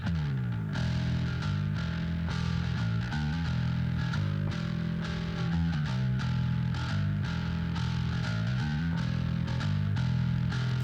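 A gritty, distorted bass guitar plays a continuous riff of shifting low notes, loud and sustained throughout, with no voices.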